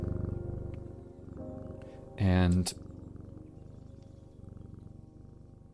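A cat is petted in the video game Strange Antiquities, giving a soft, steady, rhythmic purr beneath low background music, broken by one brief loud burst partway through while a voice speaks.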